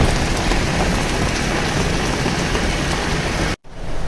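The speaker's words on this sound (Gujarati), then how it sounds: "ધોધમાર વરસાદ" Heavy rain in Surat, India pours steadily in a dense, even roar, then cuts off abruptly near the end.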